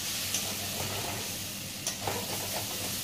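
Ghee and garam masala sizzle and sauté in a pan, a steady close crackle with occasional stirring scrapes and no talking.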